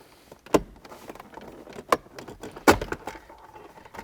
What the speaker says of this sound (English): we're going to pull up on these tabs, and they come up